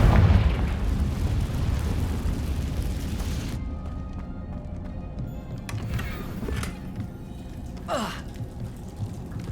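A Confringo blasting spell in Hogwarts Legacy goes off as a loud, rumbling burst at the very start, fading into a dull ambient roar with a few faint later pops and whooshes.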